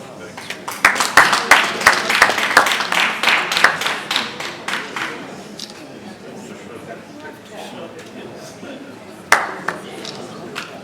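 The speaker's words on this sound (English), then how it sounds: "Big round of applause" Audience applause at an award ceremony breaks out as a burst of claps that thins to a few scattered hands, with a late clap standing alone near the end, and people speaking alongside.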